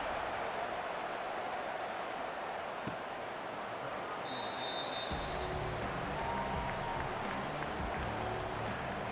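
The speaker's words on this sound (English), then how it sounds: "this crowd is buzzing after that last score" A stadium crowd in College Football 26 hums and roars steadily after a score in a West Virginia versus Temple game, with a swelling low rumble and scattered cheers.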